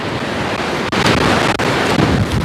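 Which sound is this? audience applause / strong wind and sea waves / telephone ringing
strong wind and sea waves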